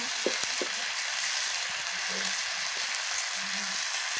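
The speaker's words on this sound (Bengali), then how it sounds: "আজকে আমাদের রাতে হচ্ছে চিকেনের ছাল মানে ছাঁট রান্না হচ্ছে গাইস" Chicken skin scraps frying in a pan, a steady bright sizzle that goes on throughout, with a few faint clinks and stirring sounds under it and no voices.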